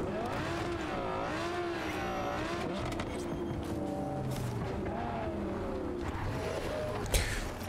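A car in Cyberpunk 2077 loops around in a circle, its engine droning with rising and falling revs and a brief tire squeal near the end, loud and steady throughout with no talk.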